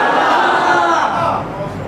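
A crowd at a religious sermon gathering in Faisalabad chants a slogan in unison, a loud massed shout that holds, then drops off quickly.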